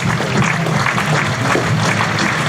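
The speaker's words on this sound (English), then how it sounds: "we'll just listen to the applause" Steady applause from a county cricket crowd for a batsman's unbeaten 152-run innings as the openers walk off, a dense continuous wash of clapping filling the ground.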